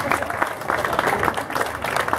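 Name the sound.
audience applause for association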